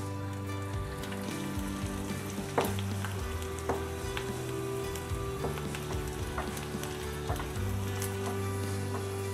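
Garlic, dried red chillies and asafoetida sizzling in hot oil as a tadka for chinta chiguru dal, a steady crackling fry with occasional sharp pops and stirring clinks.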